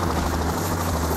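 A helicopter in the video game PAYDAY: The Heist hovers nearby, its rotor a loud, continuous thudding roar that stays steady throughout, with no speech.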